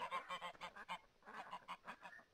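Geese in the farm game Hoff Bergmann Reloaded honk in a quick irregular series of nasal calls, about a dozen bursts, fairly faint and close with no speech.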